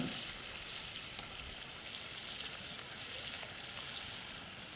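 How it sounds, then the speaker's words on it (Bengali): Cooking oil poured into a hot kadai over a village cooking fire crackles with a constant, quiet, hissing sizzle that runs evenly for several seconds. "কড়াইটি গরম হয়ে গেছে, তেলটা দিয়ে দিলাম।"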